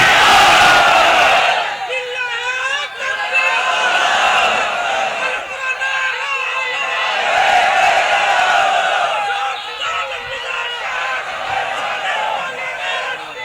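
A large crowd roars a loud, sustained collective chant of Allahu Akbar answering a Nara-e-Takbir call at a religious sermon gathering, the massed voices swelling and surging continuously throughout.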